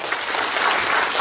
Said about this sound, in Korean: 그 앞에 계신 동지들을 위해 힘찬 박수 부탁드립니다.